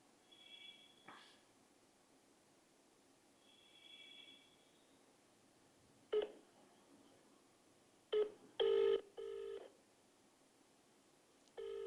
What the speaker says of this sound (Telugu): ఒక్కసారి 4 ఎమ్మెల్యేల్లో ఒక్కొక్కరికి ఫోన్ చేద్దాం